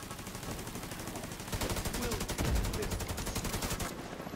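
SMG fire in the video game Division 2: a sustained rapid burst of automatic shots, loud and close, running for a couple of seconds against a steady game background.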